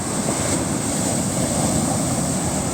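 Sea waves at Savakkadu beach rush in a continuous broad wash, heavily mixed with buffeting wind noise on the microphone.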